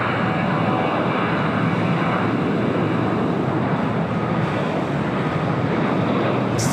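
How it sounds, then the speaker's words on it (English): An Avianca A320 in special livery arrives on runway 25 left at LAX, a continuous loud jet rush with wind-like hiss, steady from start to finish with no talk. "Avianca special livery now arriving on 25 left."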